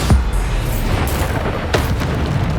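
A Bombarda blast spell explodes in the video game Hogwarts Legacy, a loud booming burst at the start followed by sustained rumbling combat noise and a couple of sharper impacts.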